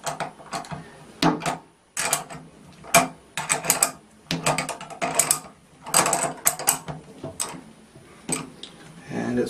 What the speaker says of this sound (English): it presses the bearing out of the casting